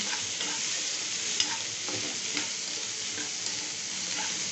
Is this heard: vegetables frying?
yes